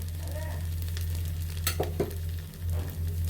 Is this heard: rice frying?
yes